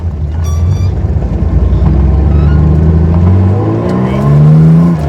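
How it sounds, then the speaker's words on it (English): A Porsche 911 engine runs rough while misfiring on some cylinders, its loud uneven low rumble rising and falling as it is revved, heard close up. "We are not running on all the cylinders."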